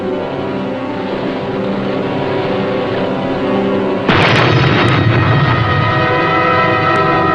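Steady mechanical rumble from a submarine, then a sudden heavy boom of torpedoes striking their target, followed by a loud, sustained roar with scattered cracks.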